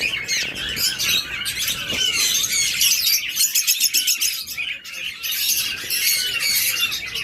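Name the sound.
pair of cage birds chirping and squawking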